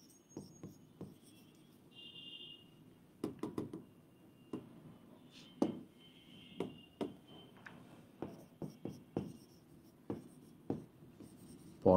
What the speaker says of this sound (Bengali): তার মানে আবারও আমি লিখে রাখলাম